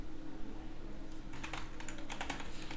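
Fingers tap a computer keyboard, the clicks sparse at first, then a quick, close burst of keystrokes in the second half, with no talking.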